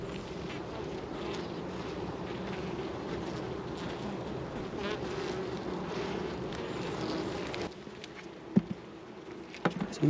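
Honeybees buzzing around opened hive frames during a varroa treatment, a steady droning hum with occasional louder bees passing close, and soft knocks and handling noises near the end.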